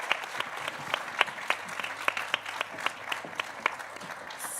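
Audience at a talk on Black protest applauding, a modest, fairly sparse clapping with distinct individual claps standing out from a softer background patter.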